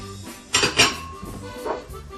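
Crayfish tipped into a pan for Cajun shrimp and chicken pasta, heard as two close metallic clatters in quick succession and then a softer clink, with no talking.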